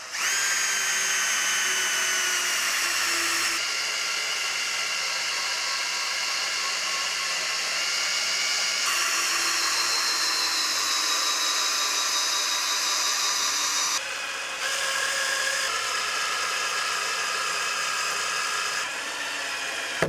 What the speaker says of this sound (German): Und wie würde dieser Akkuschrauber jetzt sagen? Pau, pau, pau!